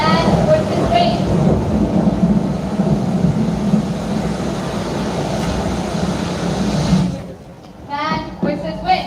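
Stage sound effect of rain and rumbling thunder during a live play, a loud continuous roar that cuts off near the end, followed by a voice speaking.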